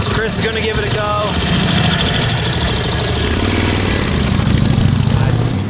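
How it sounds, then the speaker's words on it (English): An old motorcycle engine, restored after sitting for 40 years, runs steadily and fairly loud throughout on a road test ride, with voices talking over it. "Bike's back up and running."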